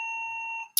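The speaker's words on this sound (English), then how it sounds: "That's my doorbell going." A home doorbell sounds one sustained electronic chime that holds steady, fades, and is cut off by a sharp burst of noise.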